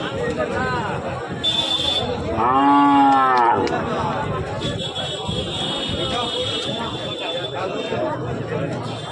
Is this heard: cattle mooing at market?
yes